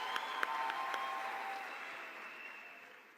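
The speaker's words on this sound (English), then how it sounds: "Another round of applause for him" Applause from an audience at a youth health conference, dense and steady at first, then thinning and fading away over a few seconds.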